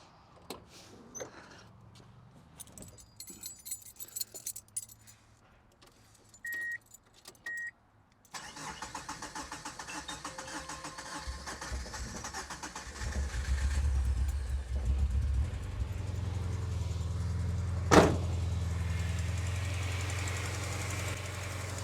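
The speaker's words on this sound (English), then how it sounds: "We're gonna fire up the car," Keys jangle and chime faintly before a Subaru Impreza GC8 WRX with an EJ22 engine cranks, starts, and settles into a loud, steady idle, heard close with a brief sharp burst near the end.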